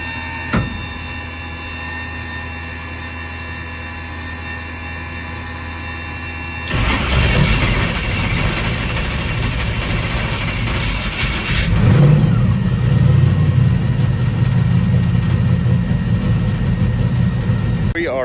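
The Moonshine drag car's engine cold-starts on methanol, catching abruptly after a quiet stretch, then idles loudly and rises into a heavier rev, with people talking over it.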